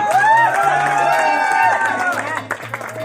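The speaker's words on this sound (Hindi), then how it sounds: "टीम गांधी स्टेडियम, जोरदार तालियां" A crowd applauds the winning team at Gandhi Stadium after a friendly memorial cricket match. Loud, steady clapping with cheering voices runs throughout, over a low constant hum.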